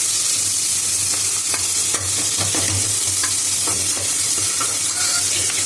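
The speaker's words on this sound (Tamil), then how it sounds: "பட்டை வதக்கி வச்சிருக்கேன், பிரிஞ்சி இலை வதக்கி வச்சிருக்கேன், ஆனியன், நல்லா ப்ரௌனிஷ் ஆனோன்னே" Onions with cinnamon stick and bay leaf sautéing in a pan for biryani, a steady close sizzle with scraping stirring strokes throughout and no talking.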